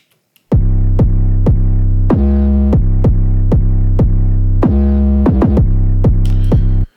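A deep, clean bass guitar plays a rhythmic line of plucked notes, loud and dry, with no effects and no voices.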